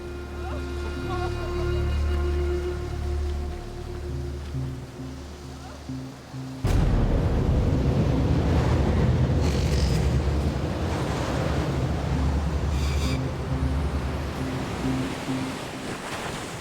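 Stormy ocean waves crash around a sailboat caught in a storm, a loud continuous roar of surf and wind that swells sharply partway through, with music underneath at the start.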